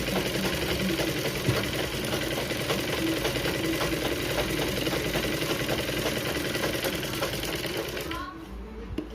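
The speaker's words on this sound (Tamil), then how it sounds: "இந்த துணியோட ஓரமாக ஒரு தையல் போட்டுக்கோங்க" A sewing machine runs steadily, stitching along the edge of blouse fabric with a continuous mechanical whir for about eight seconds before stopping abruptly near the end.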